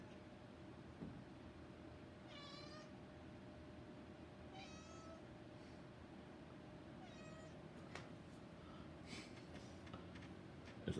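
A cat meows three times at spaced intervals, each a rising-falling wail, somewhat distant and faint over a constant low background rumble, followed by a few faint clicks.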